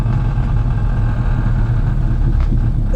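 A stripped-out Ford Fiesta ST engine with a custom track tune runs loud and steady at close range, a low rumbling drone with slight rises in pitch as it pulls through the revs.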